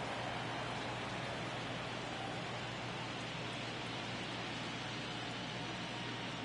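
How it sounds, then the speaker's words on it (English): Light rain falls over Dodger Stadium in Los Angeles during Game 2 of the World Series between Boston and the Dodgers, a soft, even hiss that holds steady throughout with a faint low hum beneath. "We have a light rain falling."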